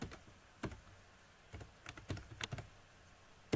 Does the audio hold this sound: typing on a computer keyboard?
yes